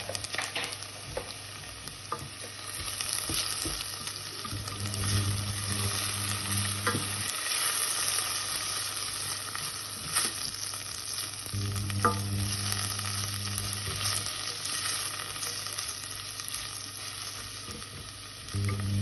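Butter sizzling in a pan with callaloo, Jamaican style, a soft continuous fry close by with intermittent stirring scrapes and a low hum, no speech.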